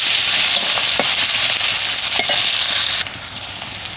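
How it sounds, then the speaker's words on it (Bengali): Chopped onions frying in hot oil in a home kitchen pan, a loud continuous sizzle with light stirring scrapes, no talking. "এবার দেবো পেঁয়াজ কুচি, একটা পেঁয়াজ কুচি নিয়েছিলাম দিয়ে দেবো, দিয়ে একটু ভালো করে ভেজে নেব।"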